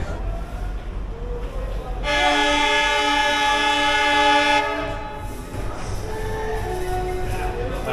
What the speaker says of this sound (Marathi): आपल्या ट्रेननी हॉर्न दिलेला आहे सुटण्यासाठी